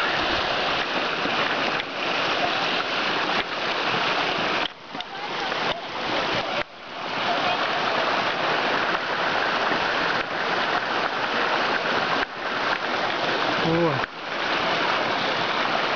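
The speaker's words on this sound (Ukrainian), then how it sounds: "А ось цей водоспад уже зблизька." Continuous rushing water of the Narinetskyi waterfall roars close by, a dense wash of falling water with a few brief dips and small knocks.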